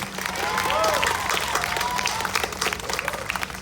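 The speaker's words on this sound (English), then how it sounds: "Can we get a warmer round of applause for Isabella, Perla, and Dylan" Warm round of applause from an audience at a school class promotion ceremony, steady dense clapping lasting several seconds with a few cheers and voices mixed in.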